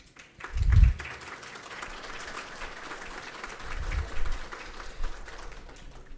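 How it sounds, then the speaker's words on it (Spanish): Audience applause greets a guest lecturer at a medical science conference, a moderate, steady patter of many hands heard from some distance in a hall, with a couple of low thumps and no talk over it. "Por favor, les pido un aplauso"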